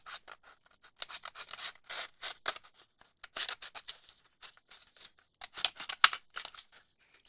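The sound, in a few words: scissors cutting a junk mail envelope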